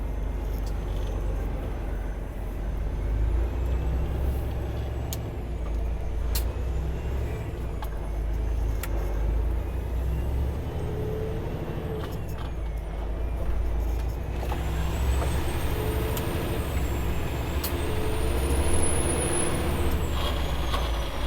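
A 2014 Kenworth W900L truck with a 500hp Cummins ISX15 engine driving, a steady loud diesel drone heard from inside the cab, with faint whines and clicks and a shift where a gear split is missed.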